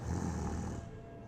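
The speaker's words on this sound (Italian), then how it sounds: "quando dormiamo, alcune persone russano" A sleeping person snores in one long, loud, rough breath that fades toward the end, with no talking.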